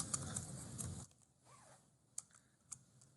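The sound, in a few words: typing an Excel formula on a computer keyboard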